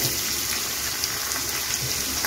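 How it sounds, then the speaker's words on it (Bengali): Chopped onion frying in hot white oil on a tawa, a steady, close hiss and crackle that holds evenly throughout with no talking. "এখানে আমি পরিমাণ মতো সাদা তেল দিয়ে গরম করে নিয়েছি। এখন কেটে রাখা পেঁয়াজ কুচিটা দিয়ে দিচ্ছি"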